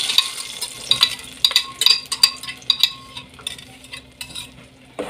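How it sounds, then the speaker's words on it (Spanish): Butter melts and sizzles in a pan under a run of close, crisp utensil clinks and scrapes, with a soft frying hiss in the gaps between them. "Ya puse aquí un poquito de mantequilla. Lo voy a hacer todo con mantequilla."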